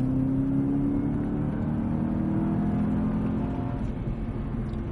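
A Cadillac CTS-V pulls hard on the Monticello Motor Park race track, its engine a steady, loud, close drone with rising tones and no talking.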